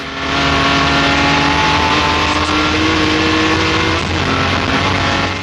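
A D-Type race car engine pulls hard under full throttle on a circuit, its loud, close, gritty roar climbing steadily in pitch through a long acceleration, with a brief dip near the end before it surges on.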